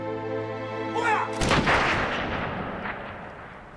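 A firing squad of German soldiers fires a single loud rifle volley at dawn in 1943, one sharp blast that rolls into a long fading echo after a shouted command.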